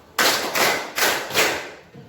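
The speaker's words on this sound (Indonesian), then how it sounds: "Pimpin teman-teman untuk tepuk bola" Four loud, slightly uneven unison claps from a class of students playing a counting clapping game in a classroom, each with a short room echo.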